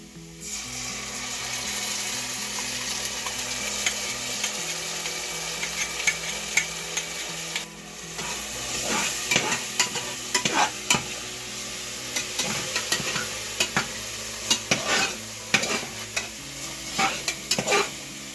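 Ground masala paste sautéing with softened onions for chicken biryani, a steady sizzle and fry with repeated scraping stirs and clinks from a spoon against the pan, close and continuous with no talking.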